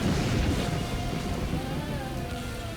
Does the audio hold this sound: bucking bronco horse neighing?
no